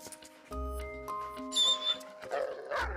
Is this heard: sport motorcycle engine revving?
no